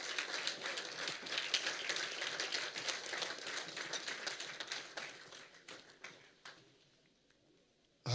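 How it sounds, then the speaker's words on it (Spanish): A church congregation standing to applaud during a worship service, dense sustained clapping for several seconds that thins out and fades to near silence at the end. "Le damos un aplauso al Señor por la palabra."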